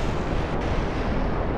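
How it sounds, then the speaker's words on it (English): Minor explosions in the video game Kerbal Space Program, heard as a continuous low, rumbling roar, fairly subdued and steady throughout, with no voices. "Some minor explosions."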